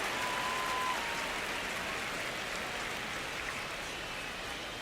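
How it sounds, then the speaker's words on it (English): Steady, even roar of a stadium crowd at Dodger Stadium in the MLB The Show 26 baseball game, a broad wash of ambient noise with no distinct peaks. "crowd getting settled here at Dodger Stadium"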